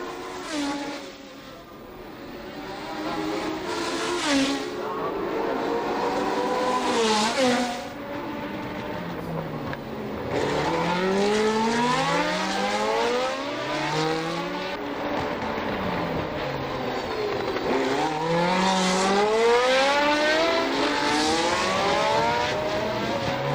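1976 Formula 1 race cars, including a Ligier with a huge airbox, howl past in repeated sweeping pitch-falling passes, loud engine roars rising and fading over about twenty seconds with no talk.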